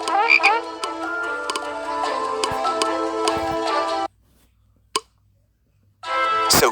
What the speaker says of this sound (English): Then he filled the Egyptian houses with frogs. Frogs were everywhere.